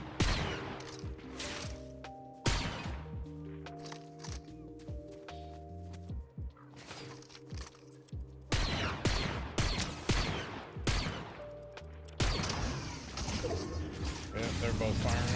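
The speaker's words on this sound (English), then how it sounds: "They're both firing on us now." Enemies in a video game fire from a gas station area, their shots arriving as sharp bursts and volleys scattered among musical tones and impacts, loud and near, while players talk over them.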